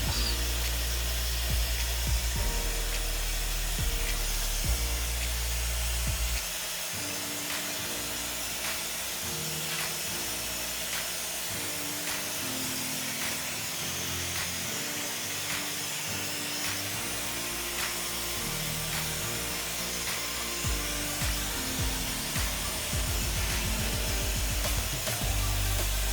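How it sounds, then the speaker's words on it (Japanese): Close, continuous hair dryer roar while a bob haircut is blow-dried and finished in a salon, a steady airy hiss throughout with shifting low rumbles as the dryer moves. "ドライヤー仕上げが終わりました"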